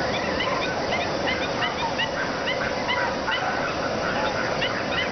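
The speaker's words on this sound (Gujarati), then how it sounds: "અહીં અનેક દેશોમાંથી પરદેશી પક્ષીઓ શિયાળા દરમિયાન આ તળાવ પર ટૂંકો આવાસ કરે છે." A dense flock of wintering migratory birds at Thol lake bird sanctuary honks continuously, with many overlapping calls rising over a constant background hum and no speech.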